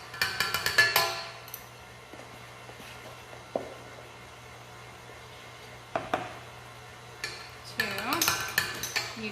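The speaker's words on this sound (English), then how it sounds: "Now we are going to add in 6 tablespoons of cocoa powder. 1 tablespoon at a time." A metal tablespoon scooping cocoa powder into chocolate zucchini cake batter makes light clinks and scrapes against a bowl, scattered at irregular intervals with quiet gaps and a brief cluster of clatter near the end.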